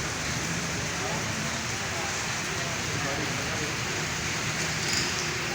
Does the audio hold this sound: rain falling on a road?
yes